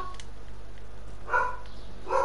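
A dog in a room gives two short barks spaced apart, moderately close and alone over quiet background hiss.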